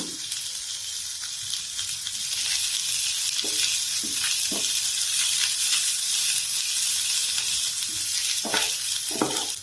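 Jowar masala dosa filling with chopped coriander, curry leaves and grated ginger fries in a hot pan. A steady close sizzle continues throughout, broken by soft scraping stir strokes, and no one talks.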